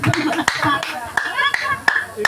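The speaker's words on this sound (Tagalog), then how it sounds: "Palakpak!" A crowd at a Filipino brotherhood oath-taking and anniversary ceremony claps in sharp, scattered bursts, heard close and loud with people talking over the hands.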